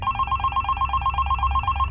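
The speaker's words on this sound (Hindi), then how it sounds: "कुछ दूर चलने के बाद पिताजी का फोन फिर से आया।" A telephone rings with a rapid, steady electronic trill that repeats evenly and keeps going over a low background hum, moderately loud, with no voices.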